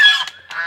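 A goose, offered as the prize at a sweet-eating contest, gives two short, loud honks close by, one after the other.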